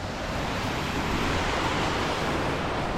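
Water rushes steadily over a built overflow at a bridge on a wintry day, a loud, dense, continuous roar with no breaks and no voices.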